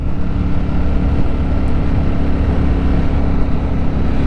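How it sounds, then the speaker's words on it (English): A Ducati Streetfighter V4S motorcycle riding at low RPM on the road, a steady deep engine drone with wind rush, heard close and without speech. "Well, that quick shift is really smooth, even at low RPM."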